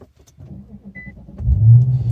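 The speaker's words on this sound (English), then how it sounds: "turn the car on." An Infiniti M37/M56/Q70 starting up in cold, icy weather: a soft click and brief crank, then the engine catches with a loud low rumble that swells and holds steady near the end.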